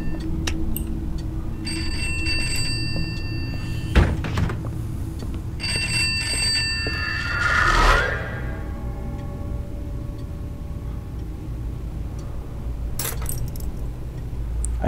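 A ringing telephone in the horror game Pineview Drive sounds as metallic bell-like trills in two bursts over a steady low background hum, with a brief thump and a swelling noise between them.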